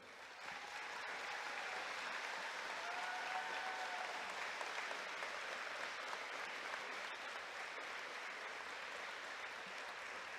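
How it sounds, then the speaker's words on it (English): An audience at a university graduation ceremony applauds military veterans as they stand: sustained, even clapping from a large crowd heard from a distance, fairly faint, lasting about ten seconds with no speech over it. "please stand while we give you a round of applause and thanks for your service to our country"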